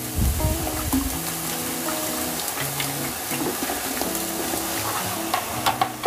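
Baking soda and vinegar fizzing in a blocked sink drain, a close crackling sizzle of bubbles with scattered sharp pops and faint scraping and stirring sounds at moderate volume.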